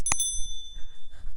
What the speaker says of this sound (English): notification bell.